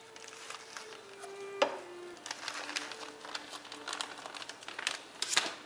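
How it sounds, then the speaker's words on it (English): A spicy turkey mixture is stirred in a cooking pan, with irregular scraping and rustling strokes that come close and fairly loud, over a faint steady hum and no talking. "stir occasionally until it begins to simmer"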